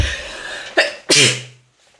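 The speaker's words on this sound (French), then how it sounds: "Attendez, je vais éternuer." A sharp sneeze up close, preceded by a quick breathy intake, then quiet.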